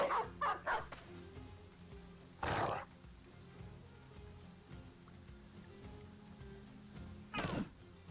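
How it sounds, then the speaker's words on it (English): Dog barks in the medieval tactics game Battle Brothers: a few short, sharp barks early on, then isolated louder barks around three and seven seconds over a quiet, steady background hum. "Fortunately, Reinhardt's got a dog as well."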